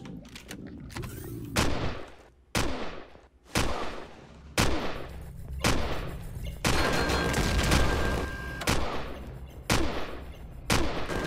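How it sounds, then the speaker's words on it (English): Heavy shotgun blasts boom one after another in the space survival game Empyrion: Galactic Survival, about ten loud, sharp shots spaced roughly a second apart, each with a ringing tail, mixed with impact clatter. "That's a hell of a shotgun, man."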